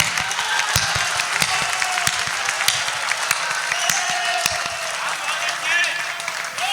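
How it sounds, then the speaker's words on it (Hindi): Dense, steady applause from an audience at a recitation event rolls on for several seconds at a moderate level, with scattered sharper individual claps standing out. "इतनी बढ़िया पंक्ति के लिए इतनी कम तालियां नहीं चलेगी"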